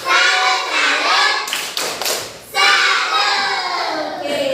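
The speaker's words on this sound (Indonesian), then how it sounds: "Kasih tepuk salutnya yang heboh ya." Children in a classroom loudly shout a rhythmic clapping chant together, sharp claps and voices mixed, with a brief pause of scattered claps in the middle before the chanting resumes, close and energetic.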